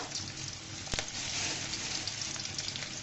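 Whole cumin seeds frying in oil with chopped onion, garlic and green chilli, a steady close hiss of sizzling with a single sharp tap near the start.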